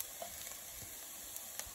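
Garlic sautéing with onions in a pan for a vegan chickpea curry gives a faint, steady frying hiss with a few light stirring ticks, quiet and even, with no talking.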